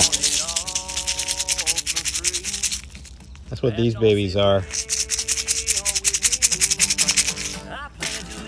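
Dry rattlebox seed pods rattle and shake in bursts, close and fairly loud, with someone speaking briefly in the middle.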